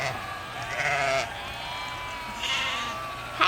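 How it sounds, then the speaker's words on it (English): Sheep bleat in long, wavering cries that overlap in a couple of bursts, moderately loud over a steady outdoor background with no talking. "I can hear the sheep."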